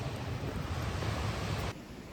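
A waterfall on the Rae Lakes Loop trail pours over flat, plain granite and off a cliff, giving a steady, loud rushing wash that drops slightly in level near the end.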